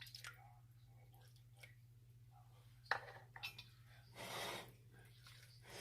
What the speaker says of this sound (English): So now I'm going to add a little bit of broth.